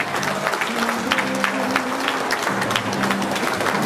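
Spectators applaud at a Special Olympics open swimming memorial meet in Kędzierzyn-Koźle. The clapping is moderate and steady, mixed with crowd voices and some sustained tonal sounds in a reverberant poolside space.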